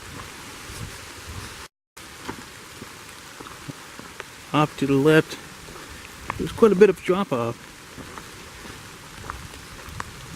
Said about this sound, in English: It's a good day to hike in the rain.